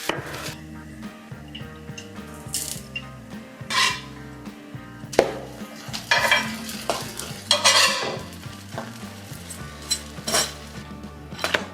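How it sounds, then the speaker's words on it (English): Slices of country sourdough loaf toast in olive oil in a pan, giving bursts of sizzling and scraping pan clatter over steady background music. "I have a nice country sourdough loaf here sliced up that I'm going to put a little olive oil on and just toss it into a pan."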